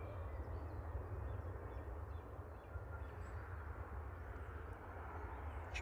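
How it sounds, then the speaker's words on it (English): A Norwegian airliner landing at Manchester Airport gives a faint, steady far-off engine rumble that runs unbroken for several seconds, with no voices over it. "Norwegian just touched down"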